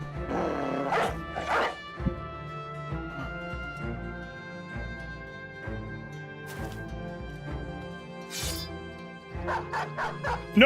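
Game dogs lunging and barking in Battle Brothers: scattered sharp yips and barks over a sustained musical drone, a few bursts early and a tighter cluster of quick barks toward the close.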